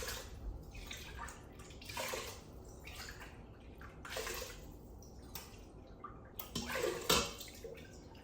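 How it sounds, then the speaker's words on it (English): Bone broth water being strained and poured out onto plants, a splashing, gurgling pour in several bursts, fairly close and moderately loud. "Just gonna strain the water and put it into my plants."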